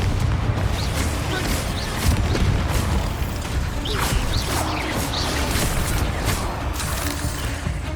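Spell blasts from the Confringo curse in Hogwarts Legacy, a dense stream of overlapping booms and whooshes that keeps a loud, busy game mix going for the whole stretch without a break.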